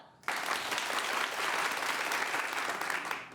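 Comedy improv show audience clapping without whoops or cheers, a sudden onset of dense, steady applause from a crowd, held evenly for a few seconds before tapering off.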